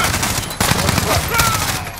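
Rapid automatic gunfire and dense bursts of shots crackle loudly in Call of Duty: Modern Warfare on the Shipment map during a Hardpoint match, with game voice lines mixed in.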